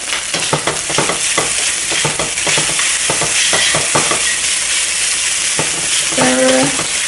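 Rice with pork stir-fried at high heat in a pan, loud continuous sizzling with quick rhythmic scraping and tossing strokes, close by, the strokes easing off toward the end.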